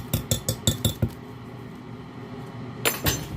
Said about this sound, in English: We're going to drop our spoon.